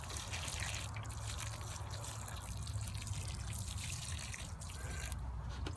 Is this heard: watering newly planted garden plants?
yes